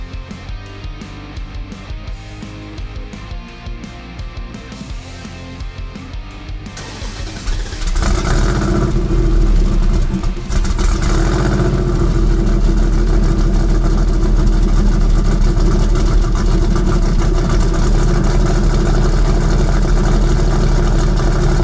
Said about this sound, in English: attention to all the detail when it comes to firing one of these engines up